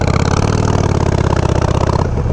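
Engine idling through an LAF exhaust with torque cones, a loud, deep, steady rumble with a rhythmic lope, close by and continuous until it fades slightly at the end.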